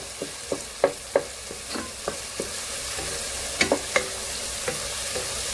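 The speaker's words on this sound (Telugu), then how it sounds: "ఇది కొంచెం బాగా మెత్తగా గుజ్జులాగా అయ్యేంత వరకు కూడా వేయించుకుందాం" Masala with ginger garlic paste frying in a pan for a soya chunk and chana dal curry, a continuous hiss broken by sharp spoon taps and scrapes at irregular intervals, close by.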